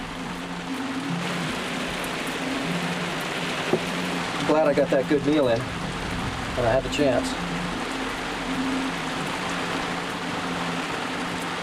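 Heavy tropical rain in the Cook Islands pours steadily in a constant hiss, while a person talks briefly over the downpour.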